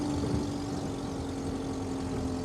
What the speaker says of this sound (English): Now it sounds like that exhaust might be blowing somewhat